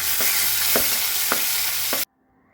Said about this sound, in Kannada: ಇವಾಗ ಕರ್ಬೇವಿನ ಸೊಪ್ಪೆಲ್ಲ ಫ್ರೈ ಆಗಿದೆ ಈಗ ಈರುಳ್ಳಿ ಹಾಕೊತಾ ಇದ್ದೀನಿ